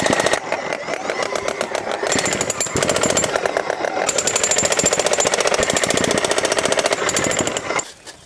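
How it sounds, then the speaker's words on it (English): A demolition hammer pounds into sandy ground while digging fence post holes, a loud rapid continuous hammering that runs steadily for several seconds before stopping abruptly near the end. "I have less than no experience on any sort of demolition hammer"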